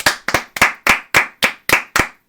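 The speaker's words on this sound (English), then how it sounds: "round of applause for Justin Steele" Eight sharp, evenly spaced claps ring out close and loud in a steady rhythm, a small round of applause for baseball pitcher Justin Steele, with no talking.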